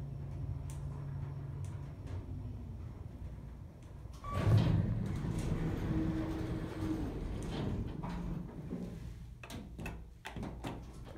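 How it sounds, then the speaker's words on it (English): A loud sliding elevator door at a senior living facility in Buzzards Bay, Bourne, Massachusetts rumbles and clunks as it moves, a heavy burst rising midway and sustaining, with faint background noise and no talk. "Very loud door."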